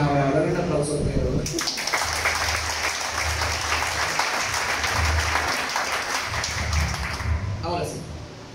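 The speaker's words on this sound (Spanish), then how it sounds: "Ahora un aplauso a Pedro." Applause for Pedro at a Sabbath religious gathering, a dense sustained clapping crowd that starts after a spoken line and continues steadily for several seconds before tapering, with voices underneath.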